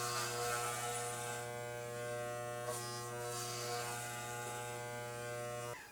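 Electric hair clippers fitted with a number 4 attachment buzz steadily while trimming a person's own hair, a constant close droning hum that holds for about six seconds before switching off.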